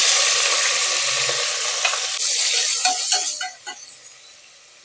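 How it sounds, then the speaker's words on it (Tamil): Chopped onions dropped into hot oil with whole biryani spices for prawn biryani, loud steady sizzling with stirring scrapes and a few clinks of the spoon, the frying easing off toward the end. "கட் பண்ணி வச்சுருக்க ஆனியன் போட்டுக்கோங்க."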